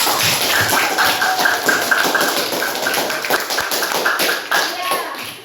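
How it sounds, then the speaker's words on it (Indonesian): Schoolchildren in a classroom clap together in quick, uneven rhythm, a close patter of small hands with a few thumps, while young voices chatter faintly underneath. "Tepuk tangan dulu untuk kita"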